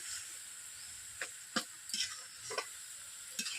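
Shredded cabbage with potato frying over low heat in a pan, a steady soft sizzle under scattered sharp taps and scrapes of a spatula stirring, close and moderately quiet with no talk.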